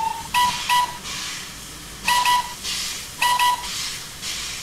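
A toy steam engine gives three short, shrill whistle toots at even intervals, each paired with a soft hiss of steam, close by and otherwise quiet.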